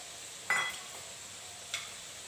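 Half-ground panch phoron spices dropped into hot oil over a low flame for mango pickle, a soft close sizzle with two brief stirring scrapes, faint and alone.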